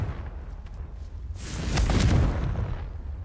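Confringo spell blast in a wizarding video game, a single whooshing burst that swells into a loud rumbling explosion and then fades away.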